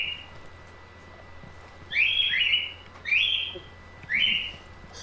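Birds chirping in the video game Ghost Recon Wildlands, three bright whistled calls coming in separate bursts over a quiet hum of background ambience, with no talking.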